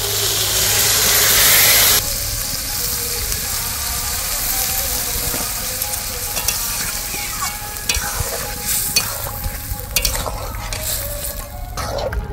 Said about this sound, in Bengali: তো বাকি সব মশলা জলটা দিচ্ছি।